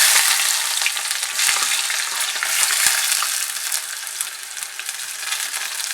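Onions frying in heated oil for beetroot rice, a steady close crackling sizzle with occasional sharp pops, continuous and loud throughout with no talking.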